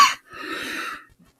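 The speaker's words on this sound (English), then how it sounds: "I've got like the cough going on right now" A person with a cold lets out a harsh, wet cough: one sharp burst followed by a rougher, breathy hacking stretch, close and fairly loud, with no talking.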